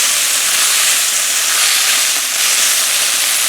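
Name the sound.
Brussels sprouts stir frying in a cast iron pan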